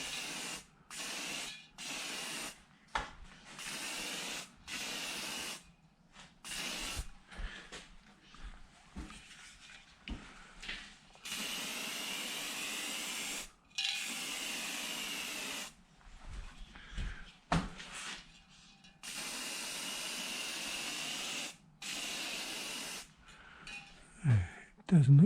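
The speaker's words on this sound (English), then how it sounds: "I'm going to use this liquid chrome and see how it looks." Liquid chrome is sprayed onto a forged windscreen rod in a workshop: a series of short and longer aerosol hisses, close and fairly loud, separated by quiet pauses and scattered handling noises.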